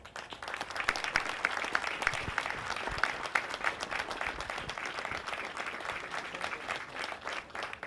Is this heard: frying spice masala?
no